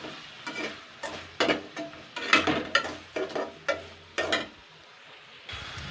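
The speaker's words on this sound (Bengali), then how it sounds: "এটাকে আমি ভালো করে দুই মিনিট মতো নাড়াচাড়া করে নেবো" Spice mixture with sugar stirred and fried in a pan for meat and vegetable curry, with spatula scrapes and clatters in irregular bursts over a faint low sizzle, no talking.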